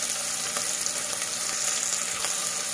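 Onions frying in hot oil in a kadai for a vegetable vermicelli pulao give off a steady, close crackling sizzle with small pops throughout and no talking.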